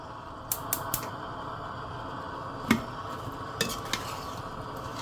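Masala being stirred in a cooking pan, with a spoon scraping and clinking against the metal in a few sharp, separate taps over a low, steady background, with no voices.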